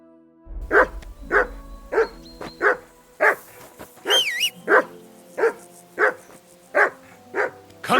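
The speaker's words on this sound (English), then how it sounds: "That barking was a pain in the ass." A dog barks repeatedly in the medieval video game Kingdom Come: Deliverance II, a dozen evenly spaced, fairly close barks with a brief whining yelp partway through.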